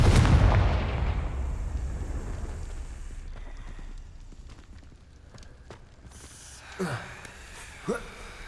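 The Confringo blasting spell in Hogwarts Legacy goes off as a loud, booming explosion and then rumbles away over several seconds, followed by a few quieter, sharp impacts near the end.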